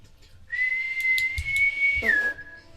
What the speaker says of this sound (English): he just starts, and he gives his whistle